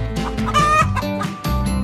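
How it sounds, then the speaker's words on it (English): A chicken clucking, a run of loud, close, throaty clucks in an uneven rhythm, heard alone. "Chicken."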